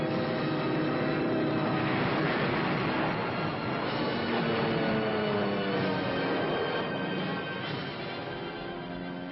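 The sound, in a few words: propeller aircraft engines in wartime film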